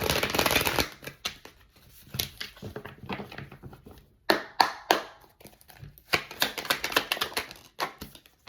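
Tarot cards being shuffled by hand, bursts of riffling and slapping card sounds with short pauses, close and crisp, no talking.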